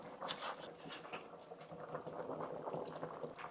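Perilla seed soup with butterbur and shrimp bubbles in a pot, a soft, continuous, close burbling with small pops and no speech.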